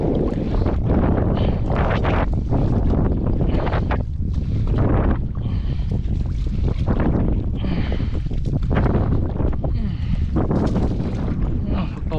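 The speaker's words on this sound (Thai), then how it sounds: "เอาอีกแล้วเจอลมอีกแล้ว" Strong wind gusts buffet the microphone while a small boat is rowed along a canal leading into a reservoir, producing loud continuous rumbling roar with shifting surges throughout.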